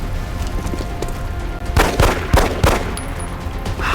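Pistol shots in the XCOM: Enemy Unknown video game, a few loud, sharp reports in close succession over a steady, noisy game soundtrack.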